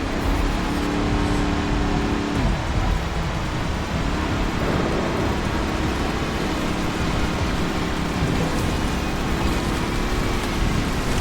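A car pulls away through a snowstorm with thunder, its engine rumbling loud and steady and pitch shifting as it accelerates, wrapped in a constant hiss of weather noise and no speech.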